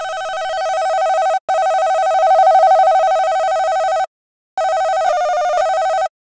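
A SID-chip-style synth patch from Cubase's Retrologue plays a bright, buzzy, sustained tone with slight noise and aliasing. It holds steadily across three notes separated by short silent gaps, with a small wobble near the end.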